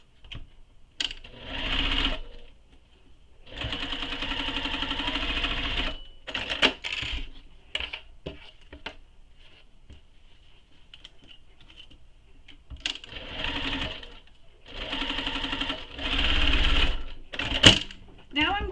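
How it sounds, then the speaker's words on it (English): A sewing machine stitches tote bag pieces together in several bursts of rapid, steady running, separated by short pauses and handling clicks, close and fairly loud. "And now I'm going to sew those together."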